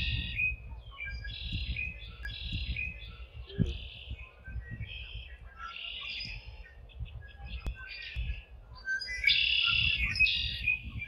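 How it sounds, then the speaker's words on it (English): Birdsong at a small pond on a rural Alberta hobby farm: many bright chirps and warbling calls overlapping nonstop, some near and some farther off, over a soft low outdoor rumble. "Let's take a moment and listen to the birds."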